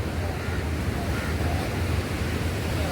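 Sea waves wash continuously onto a shore in a steady, fairly loud roar of surf, mixed with wind buffeting the microphone, with no pauses.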